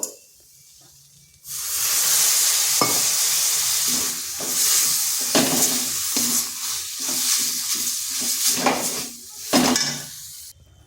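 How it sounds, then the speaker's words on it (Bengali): Cauliflower stalks are stirred in a pan with a little water until dry, giving a steady close sizzle and hiss with repeated scraping strokes of the spoon against the pan. "এটাকে এভাবে নেড়ে নেড়ে একটু শুকনো শুকনো করে নিতে হবে"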